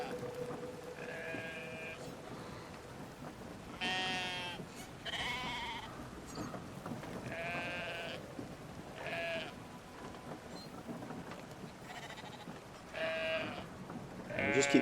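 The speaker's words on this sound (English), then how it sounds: "we're going to use the older brother again to go and grab a second sheep and bring it back across the" Sheep bleat repeatedly in the video game Brothers: A Tale of Two Sons as the older brother carries one across, several moderately loud cries spaced over a low rain-like ambient backdrop.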